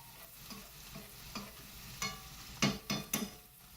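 Ginger, garlic, green chilli and onion stir-frying in a pan for raw banana bhaji: a soft sizzle under a series of spatula scrapes that grow louder and quicker toward the end, with no talking.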